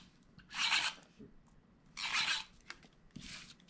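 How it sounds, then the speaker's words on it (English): A tape runner is drawn across white card mats in three quick rasping strokes, each about half a second long with short pauses between, close and fairly quiet. "I am going to use my tape runner and just run tape"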